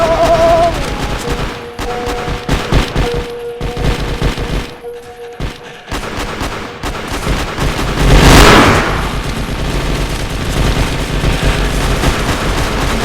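Gunfire in the Roblox video game, rapid bursts of close, loud shots in dense volleys with short pauses and a whooshing blast partway through, over game background sound.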